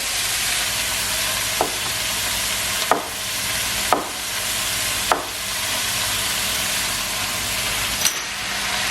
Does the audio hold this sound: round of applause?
no